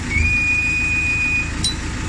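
A CAT 428F backhoe's brakes, set in the transmission differential, let out a single thin, high, steady squeal lasting over a second, then cut off over a low engine rumble.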